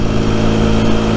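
A Rieju Century 125 motorcycle, a 15-horsepower 125 cc bike, revs its engine in a short, loud, close burst with a steady droning tone.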